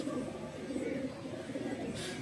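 A domestic pigeon, a cross bred from golden and bater pigeons, cooing on a home rooftop loft: a continuous low, throaty rolling coo, close and steady throughout.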